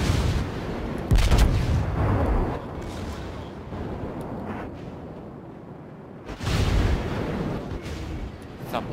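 Heavy naval guns of the French battleship Dunkerque boom in a World of Warships naval battle, with a loud broadband blast near the start and another around two-thirds through, each followed by a low rumbling tail.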